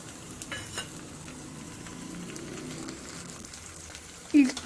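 Chillies and crushed garlic frying in a pan for a coriander chutney: a faint, steady sizzle that holds throughout, ending in a sharp utensil clatter.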